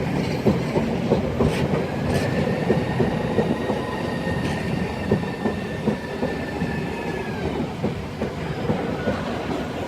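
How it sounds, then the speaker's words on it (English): Southeastern Class 395 high-speed train departing Gillingham station, a steady rumble with rhythmic wheel clatter over rail joints and a long metallic squeal, running throughout at close range with no talking. "departing there is 395013, 1 Foxtrot 43, the 1450 Southeastern high-speed service"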